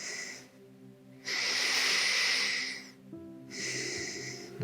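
Deep, forceful breaths during a beginner's yoga class, heard alone: a long, loud, close, airy exhale that swells and fades, followed after a pause by another breath starting.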